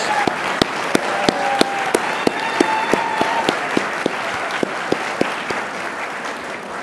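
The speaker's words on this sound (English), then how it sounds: "Let's give them all a big round of applause" An audience at an annual employee awards ceremony applauds the five-year service awardees, a steady sustained round of clapping with a few sharper, closer claps standing out through the wash.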